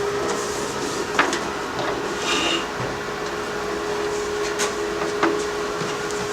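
A Weldclass Weldforce 141GL gasless MIG welder sits switched on, giving a steady low electrical hum with a faint tonal drone and a few soft clicks of handling.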